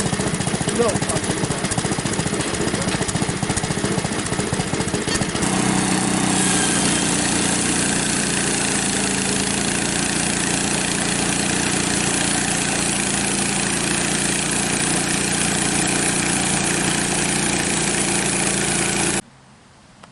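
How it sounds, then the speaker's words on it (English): Frontier OS23 portable bandsaw sawmill with its engine running loud and steady while the blade cuts through a 15-inch ash log, a continuous close drone that cuts off abruptly near the end. "It's a pretty good cut for the bandsaw."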